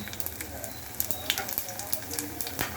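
Hot tempering sizzles and crackles steadily as it is poured over spinach sambar, a busy frying hiss with scattered pops, close and moderately loud with no talk.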